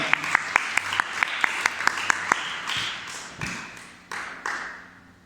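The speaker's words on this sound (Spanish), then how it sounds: "Un aplauso a Cristo." A quick burst of clapping from a church congregation during a sermon, sharp regular claps at first, then a few scattered louder thumps as it dies away.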